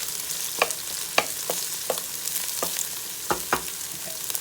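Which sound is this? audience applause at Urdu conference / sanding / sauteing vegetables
sauteing vegetables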